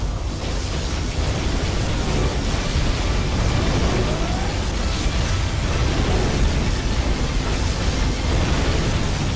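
Particle cannon beam firing in Command & Conquer Generals Zero Hour, a dense, continuous roaring hiss and crackle held steady at high loudness for the whole stretch.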